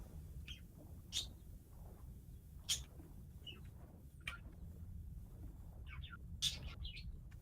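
Sparse bird chirps and tweets from the survival game Scrap Mechanic, short bright calls scattered every second or so over a low steady rumble of ambience, with no talking.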